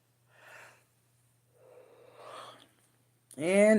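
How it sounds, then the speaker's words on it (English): A person yawns twice, with soft, breathy drawn-out exhalations separated by quiet pauses, close to the microphone, followed by a voice speaking. "And there goes the yawning."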